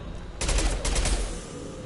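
A quick burst of rapid gunfire from the video game Mass Effect Legendary Edition, loud and close, lasting about a second over a low rumbling backdrop.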